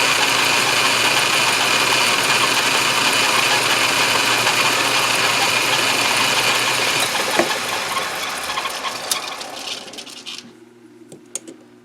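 A machine tool takes super light finishing cuts and a spring pass on a part for an Elmer's #10 wooden grasshopper engine linkage. A loud, steady mechanical whir runs unbroken, then fades into scattered faint clicks and taps.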